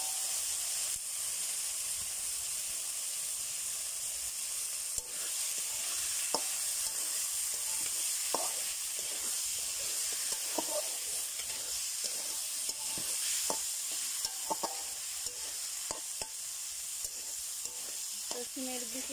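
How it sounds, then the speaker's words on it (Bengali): Spiced masala paste frying in oil in a pan, with a steady close sizzle and hiss and scattered scrapes and clicks from the stirring spoon, no voices. "এখন সবগুলো মশলাটা আমি খুব সুন্দর করে কষিয়ে নেব।"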